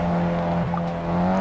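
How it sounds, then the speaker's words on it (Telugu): A drifting car's engine in the Rally Horizon racing game, set among snowy mountains, holds a loud, steady droning tone with a brief dip partway through and no clear tire squeal. "మనకైతే మన కార్ అయితే వచ్చిందనమాట, మన డ్రిఫ్టింగ్ కార్"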